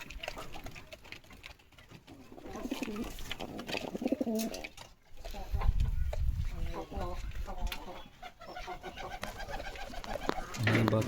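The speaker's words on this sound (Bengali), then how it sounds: "কবুতর, এগুলো হচ্ছে আমার কবুতর।" Domestic pigeons, including native and racing birds kept with chicks in a farm loft, coo repeatedly in low, throaty calls at close range, with scattered bird chatter and shuffling around them.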